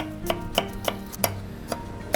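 Knife finely chopping onion on a cutting board in a home kitchen, about seven crisp, close, evenly spaced taps in quick succession.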